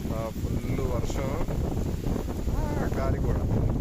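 Gusty wind buffets the microphone during a rainstorm on a motorcycle ride, a rough low roar running under a voice throughout.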